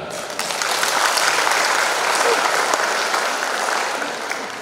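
An audience at a university Eid al-Fitr gathering breaks into steady, sustained applause that fills the room at even strength and tails off slightly at the end.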